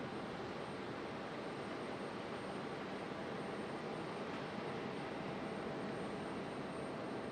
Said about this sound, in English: There's our big A330 now.